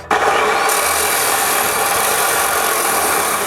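Power drill boring a shallow pilot hole into a concrete slab while building a workshop, a loud steady whine with grinding texture starting abruptly and running continuously without pause, close up.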